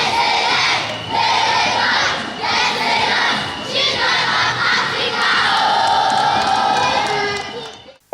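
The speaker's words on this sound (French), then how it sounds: "c'est par des chants d'allégresse et des cris de joie que la première dame Dominique Ouattara a été accueillie au groupe scolaire" A large crowd of schoolchildren at the Children of Africa school in Abobo cheers and shouts with joy, a loud, sustained roar of high voices that swells in waves and fades at the end.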